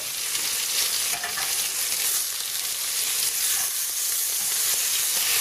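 Ostrich steaks fry in a pan, a steady loud crackling sizzle that stays constant throughout with no talk.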